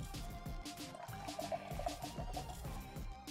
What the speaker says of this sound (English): Go ahead, pour it in